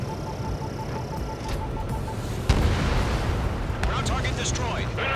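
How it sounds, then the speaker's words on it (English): Bombs hitting ground targets and radar vehicles in the jet combat game Ace Combat 7, a steady roar of rumbling detonations with a sharp blast midway, under faint background chatter. "Bombs away!"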